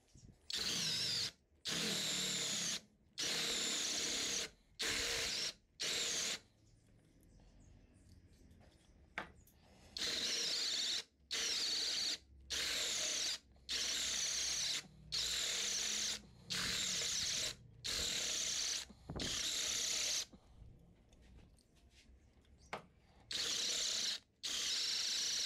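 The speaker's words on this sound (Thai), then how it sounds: "สำหรับการใช้ดอก10มิลในการเจาะเหล็กก็เจาะได้นิ่งๆแรงเหลือๆเลยนะครับ" Loud bursts of a SKIL 20V cordless impact drill, model HD52944SE20, drilling into steel with a 10 mm bit, repeated in steady on-off runs of a few seconds each with brief quiet pauses between.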